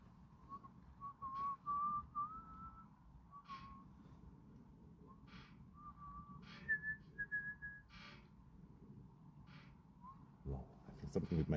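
Outdoors at sunset in Switzerland, a person attempts to whistle, producing thin, wavering, breathy tones and short hissy puffs that come and go unevenly, ending with a burst of rustle and breath close to the microphone.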